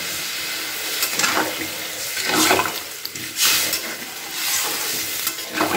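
Water poured into a pan of cooking mixed vegetables, a steady hissing sizzle and bubbling rush with swelling bursts throughout, close and fairly loud.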